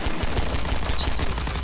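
Rapid gunfire in Garry's Mod co-op Doom 3, loud and dense, with shots repeating in a fast steady burst throughout.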